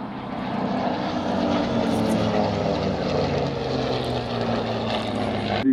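A WWII propeller fighter, a P-51 Mustang or P-47 Thunderbolt, takes off with a steady, loud piston-engine drone that holds evenly throughout, without voices.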